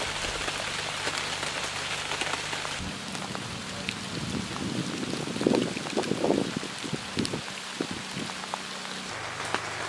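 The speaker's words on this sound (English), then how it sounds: "it's still raining out right now" Steady rain patters on a surface nearby at a Minnesota duck hunting camp, a constant soft hiss with scattered louder drops and a low background hum.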